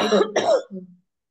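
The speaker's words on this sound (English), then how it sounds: "Yes, stupid cough." Two quick, harsh coughs close up, followed by a brief throaty rasp, then silence.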